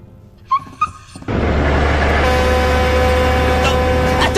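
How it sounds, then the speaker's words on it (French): A small cartoon dog in the French Inazuma Eleven anime gives two short, sharp yips, followed by a steady loud rumble of background noise. "Oh, regardez, un petit chien."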